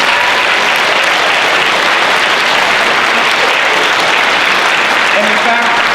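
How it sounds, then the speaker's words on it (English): Loud, dense audience applause fills the whole stretch, steady clapping from a large crowd at a 2019 winter showcase, with a few faint voices mixed in. "Give them a big round of applause."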